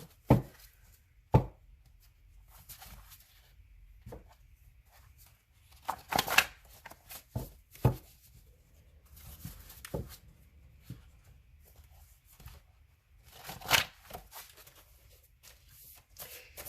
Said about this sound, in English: I want to make sure that these cards are well shuffled